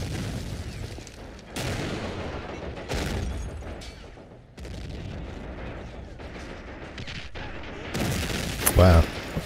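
Heavy self-propelled artillery fire from a Hummel in the World War II strategy game Men of War: Assault Squad 2, sounding as repeated dull booms inside a dense battle din, with a sharp louder blast near the end.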